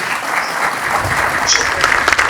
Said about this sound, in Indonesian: Kita berikan tepuk tangan Bung Refli.